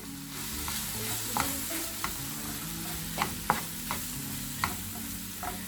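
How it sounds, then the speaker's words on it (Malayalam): Banana and grated coconut stirred in a frying pan over low heat, a soft, steady sizzle punctuated by sharp scrapes and taps of the spoon against the pan at irregular intervals, close and quiet, no voices. "തേങ്ങയും പഴമൊക്കെ നന്നായി മിക്സ് ആകുന്നവരെ ഇളക്കി കൊടുക്കുക"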